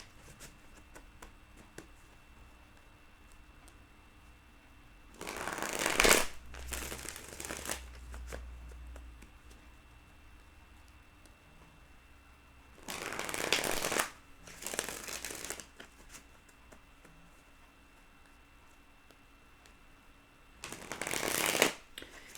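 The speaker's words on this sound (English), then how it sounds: "I'm just going to continue to pull cards." Tarot cards are shuffled and pulled in three separate bursts of quick riffling and flicking, close and crisp, with quiet pauses between them.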